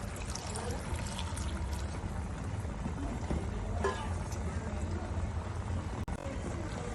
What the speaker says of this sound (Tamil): தேவையான அளவுக்கு தண்ணி ஊற்றிக்கலாம். கொஞ்சம் மூழ்கிற அளவுக்கு ஊற்றிக்கலாம்.